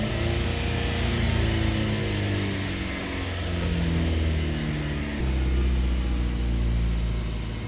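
A 2007 Jeep Compass with a 2.4 engine and a cylinder 1 misfire revving steadily, a loud, rough drone that rises and falls slightly with an uneven, stumbling tone.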